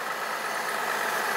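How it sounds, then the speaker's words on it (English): A steady, even idle of a 4.2-liter car engine hums without a break, a continuous mechanical drone with a hissy upper layer and no voices. "Engine is running right now"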